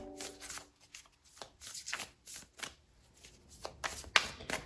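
Tarot cards are shuffled in a quiet room, with a run of soft riffling bursts and papery slaps at an uneven rhythm, close and fairly faint.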